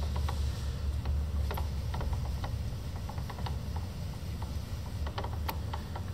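Spiral workhead on a Cincinnati Monoset tool and cutter grinder being swung after its binder is loosened, giving scattered light mechanical clicks and ticks over a steady low machine hum, no talking.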